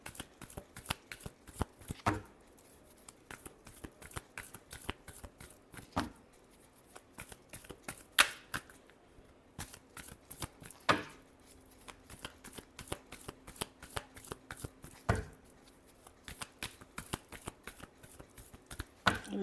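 Tarot cards being shuffled by hand, a long run of rapid crisp riffling flicks in an even rhythm, close and quiet, with no talking.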